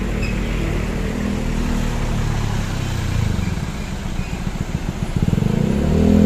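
The Mutia Putri intercity bus from Ranah Minang manoeuvres into a parking spot at Painan, a low diesel engine rumble droning steadily and then pulsing more roughly as it revs near the end.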